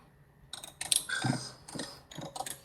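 Typing a message on a keyboard during a chat, heard as a short burst of clicky, close keystrokes in uneven clusters, with no speech.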